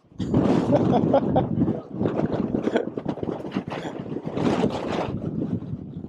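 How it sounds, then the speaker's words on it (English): Strong wind buffets the microphone out on the open ground of the Very Large Array observatory in New Mexico, coming in loud, rumbling gusts that rise and fall for several seconds. "It is so windy out here"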